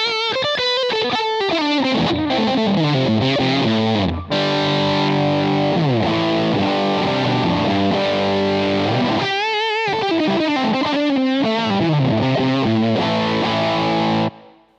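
An electric guitar plays through a DSM & Humboldt Dumblifier overdrive pedal, giving a loud, continuous distorted tone with chords and sustained notes and two brief pauses before it cuts off at the end.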